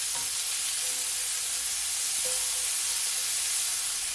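Pepper steak ingredients sauté in a pan over moderate heat, giving a steady, even sizzle and hiss that runs alone and unbroken, fairly close and moderately loud.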